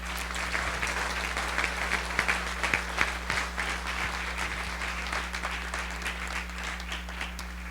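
Steady applause from a sizable church congregation, dense and sustained throughout, with a constant low hum underneath.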